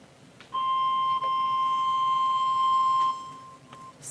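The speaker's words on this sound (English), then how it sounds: "Someone is beeping?" A device beeps during a city council meeting, giving one sustained electronic tone of about two and a half seconds over a quiet room hum, with faint clicks around it.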